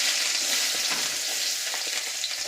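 Chopped onion fries in a pan with cumin seeds while green fried rice is being made, a steady, even sizzle heard up close with no talking.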